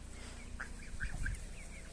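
A young gosling gives a few short, high peeping calls around the middle, close and fairly soft over a steady low background hum.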